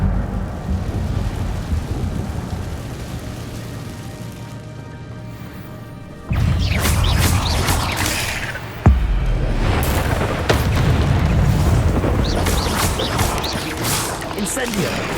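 Incendio fire spell in Hogwarts Legacy, sudden loud crashing bursts like explosive blasts, several in a row, over game ambience with a voice speaking.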